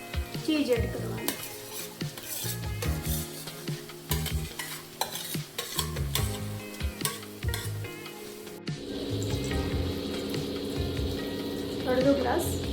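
Paneer and cheese gravy, seasoned with coriander-cumin powder, turmeric and salt, is stirred in a hot pan for Surat-style paneer cheese ghotala, with a close, continuous sizzle and repeated scraping strokes of the spoon against the metal.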